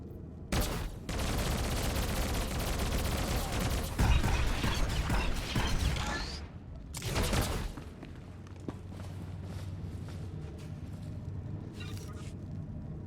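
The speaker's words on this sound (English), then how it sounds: "we can actually call in an orbital airstrike" A turbolaser orbital airstrike called down indoors on an icy planet in the Star Wars game SWTOR: a sudden roaring barrage of rapid mechanical blasts, loud and close, swells for several seconds, breaks off, bursts again, then fades into a lower rumbling tail.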